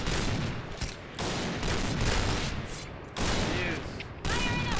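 Point Blank, an online first-person shooter, delivers rapid bursts of loud, close gunfire in several separate volleys with brief gaps between them, and no talking over the shots.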